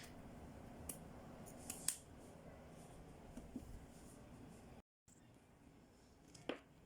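Scissors trimming excess fabric from a bolero, a few crisp snips at close range scattered over a quiet background, with a brief dropout before one last cut.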